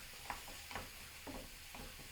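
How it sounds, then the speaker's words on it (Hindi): Yellow and green capsicum sautéing in a pan for shakshuka, a soft steady sizzle with a few distinct stirring scrapes spaced about half a second apart, close and fairly quiet. "इसको हम सौते कर लेंगे 2-3 मिनट"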